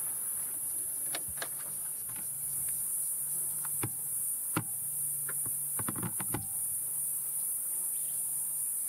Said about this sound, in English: Listen to all these cicadas.